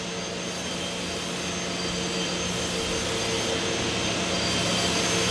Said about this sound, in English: Now the operation is doing the 5mm holes for the screws for the cams.